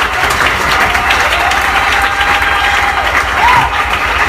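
A church congregation claps and cheers loudly and continuously, a dense roar of applause with scattered shouts and a whistle-like cry near the end.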